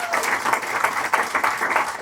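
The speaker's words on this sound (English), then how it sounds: "give a round of applause" Stand-up comedy audience applauding steadily and fairly loudly for about two seconds, a dense wash of clapping with no talk over it.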